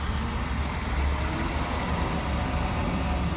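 A van engine runs steadily during a test drive, a constant low rumble with road noise filling the cabin, no voices over it.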